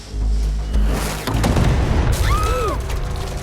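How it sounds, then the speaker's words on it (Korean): A big explosion rumbles with a heavy, sustained low boom, followed by continuing roar and debris noise with some sweeping tones layered on top. "폭발을 선택합니다."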